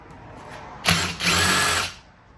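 An impact wrench loosens a 14 mm brake caliper bolt on a 2006-2012 Ford Fusion, rattling in two loud close bursts about a second long, with a short break between them.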